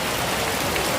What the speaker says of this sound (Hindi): बारिश का मौसम है तो बारिश होने वाला है।